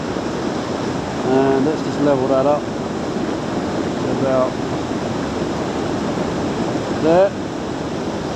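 A waterfall rushes nearby in a steady, loud, unbroken wash of white noise, while someone speaks briefly over it.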